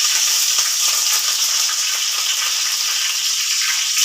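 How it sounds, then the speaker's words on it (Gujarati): Curry leaves hitting hot oil in a pan while making noodle khichdi, a steady bright crackling sizzle that holds at an even level throughout, close and without talk. "પછી આપણે તેમાં લીમડાના પાન નાખીશું."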